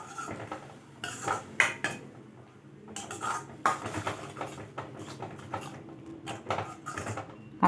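A utensil stirring chilli flakes into creamy cheese pasta, with bursts of clinking and scraping against the pan coming in irregular clusters and short quiet gaps between them.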